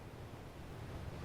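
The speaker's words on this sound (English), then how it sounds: "Sounds like the ocean." Ocean waves wash in a faint, continuous low rumble of surf, soft and distant with no voices.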